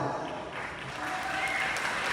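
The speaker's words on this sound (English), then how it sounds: "Give them a round of applause." Steady applause from a crowd at an elementary school event, a continuous wash of clapping that holds at an even level throughout.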